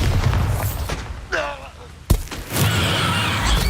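A Bombarda blasting spell goes off in the Hogwarts Legacy video game: a sharp, loud burst followed by a rumbling, crackling explosive tail, with shifting magical whooshes before it and speech present.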